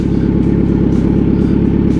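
A large motorcycle idles and is maneuvered while turning around, a loud steady low engine rumble close by with a faint rhythmic pulse.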